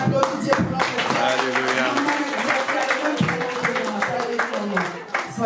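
A church congregation claps steadily and continuously throughout, a dense, loud wash of applause with voices and singing mixed in.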